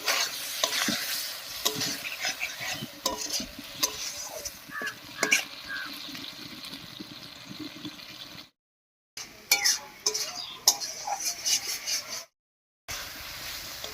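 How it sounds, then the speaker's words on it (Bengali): Spices are stir-fried with a little water in a pan for a masoor dal and pointed gourd dish, giving a close sizzle under repeated scraping stirs that stop briefly twice. Nobody speaks. "এবার সামান্য একটু মশলাটা জল দিয়ে সব কিছু খুব ভালো করে কষিয়ে নেব"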